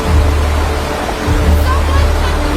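Steady roar of a river in a film scene, a loud continuous rushing wash with deep low rumble, heard alone without talk throughout.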